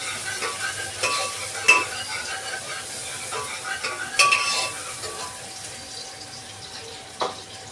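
Fenugreek greens stirred in a hot pan in a home kitchen, with a steady soft sizzle beneath repeated scraping clinks of a spatula against the metal, close and moderately loud.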